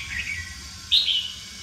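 A small portable teaching-style loudspeaker plays a recorded bird call used as a lure for trapping birds: a short high chirp, then a louder, sharper second chirp, clear and close over a faint low hum.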